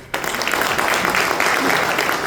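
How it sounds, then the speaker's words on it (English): A church congregation at a combined Christmas service breaks into applause for the pastor, dense sustained clapping from many hands that starts abruptly and carries on evenly throughout. "Can we give a clap for Pastor?"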